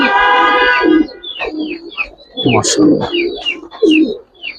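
A Silver Makra pigeon coos in a series of close, rounded calls, with a voice briefly speaking between them.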